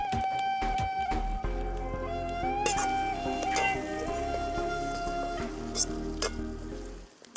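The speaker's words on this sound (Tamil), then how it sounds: "கறிமிளகா நல்லா சேர்ந்து வெங்காயத்தோட நல்லா வதங்கி வரட்டும்" Onions and curry chillies fry in a pan for a village-style fish curry, with a steady close sizzle and scattered stirring scrapes throughout.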